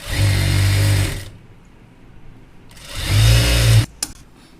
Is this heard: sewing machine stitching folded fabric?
yes